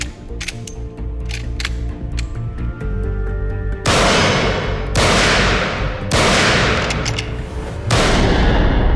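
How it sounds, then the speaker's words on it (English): Sharp, loud gunshots from a Winchester .38 caliber lever-action rifle ring out one after another, each blast trailing off in a broad decaying burst, with metallic racking clicks and softer thuds before the first shot. "He starts with the Winchester .38 caliber lever-action rifle."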